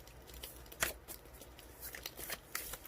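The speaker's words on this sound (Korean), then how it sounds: "한 장 더 뽑아볼게요." A tarot card is drawn from the deck, with soft papery shuffling and sliding and a few light flicks, quiet and close, with no speech.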